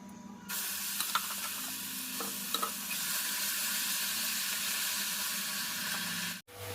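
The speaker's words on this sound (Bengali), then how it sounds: "ওদিকে পেঁয়াজ রসুনটা ভাজা হচ্ছে" Onion and garlic fry in a pan as a steady, close sizzle and hiss, with a few stirring clinks near the start and a brief dip near the end, alone and without talk.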